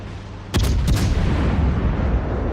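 Naval guns fire in the World of Warships video game: a sharp double boom of shots followed by a lingering rumbling roar, loud and close.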